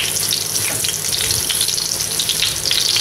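Onion frying in hot oil in a pan, a steady close sizzle and crackle with faint watery hiss running evenly throughout, no voices.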